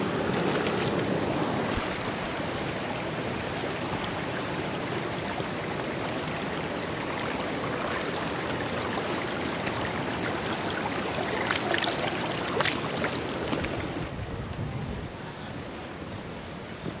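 Water of the Tinipak River flows in a constant broad rush near Mt. Daraitan, a steady, full wash that holds for the whole stretch with some wind buffeting the microphone and no talking.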